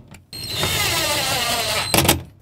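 Power tool driving smaller bolts while replacing a sliding door lock actuator on a 2008-2020 Dodge Grand Caravan, a loud close whirring run of under two seconds that ends in a short final burst.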